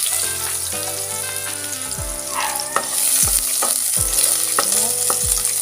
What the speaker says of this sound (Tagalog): Maglagay tayo ng oil at hayaan muna natin uminit ang ating mantika. Hulog ang bawang.